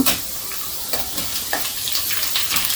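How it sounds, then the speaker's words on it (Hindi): Potatoes tossed into onions frying in a pan, a close, steady sizzle punctuated by repeated light clinks and stirring scrapes, no talk. "अब प्याज हमारा हल्का गुलाबी भून आ गया और इसमें डाल दे रहे हैं आलू को"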